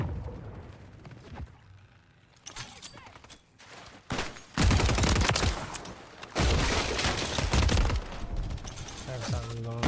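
Shotgun fire in a video game comes in bursts of loud blasts mixed with rapid gunfire, the shooting getting louder partway through, while someone talks over it.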